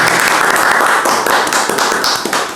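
Studio audience applause on a Spanish-language quiz show, the Pasa la Palabra game, steady dense clapping held at an even level for a couple of seconds before tapering slightly at the end.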